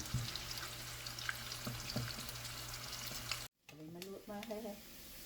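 Ginger fries in a pan with a steady sizzle and occasional crackles and stirring clicks, then after a brief gap a quieter hiss with a few soft tonal sounds.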